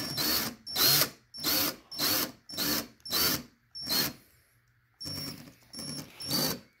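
A power drill spins up in short bursts, about ten quick whirring pulses separated by brief pauses, loud and close.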